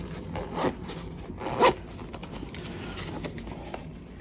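Zipper on a Hex Ranger blackout camo camera sling bag being pulled closed, a close, rasping run of teeth with two louder tugs amid steady scraping.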